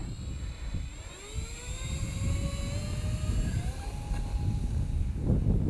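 A Tech One Mythos RC plane takes off, its electric motor whining steadily louder and climbing in pitch as it gathers speed, with wind rumble underneath throughout.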